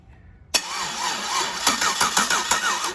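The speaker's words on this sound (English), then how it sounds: "it should operate this starter" Car starter motor on an engine, driven by a jumper wire carrying 12 volts, whirs into a loud continuous cranking drone that pulses rhythmically, close up.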